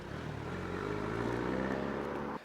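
A manual-transmission car pulls away uphill from a stop, its engine droning steadily and rising slightly in pitch under load for a couple of seconds.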